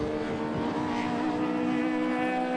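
Alfa Romeo race cars in the Alfashop Alfa Romeo Championship racing at Rockingham, with a continuous loud engine drone at high revs that holds steady throughout, no talk over it.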